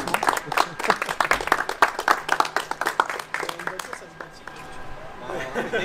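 Small group applause after a Ford GT40's first track test at a circuit, brisk clapping close by that thins out as people start chatting and talking over it.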